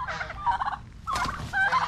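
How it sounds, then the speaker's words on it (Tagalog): Turkeys gobbling at feeding time on a poultry farm, two loud bursts of rapid warbling gobbles from close by, with a brief lull between and several birds overlapping in the second burst. "ito po ating mga pabo nagpapakain na po kami"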